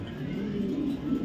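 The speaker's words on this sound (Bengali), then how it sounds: "একদম জোস কোয়ালিটির কবুতর।" Racing pigeons at a Bangladeshi loft coo in a low, steady murmur that fills the whole moment, close by and continuous, with no voices over it.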